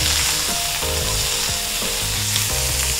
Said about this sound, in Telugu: కట్ చేసిన ఉల్లిపాయలు, వెల్లుల్లిపాయలని వేసుకుని కొంచెంసేపు ఫ్రై చేయాలి.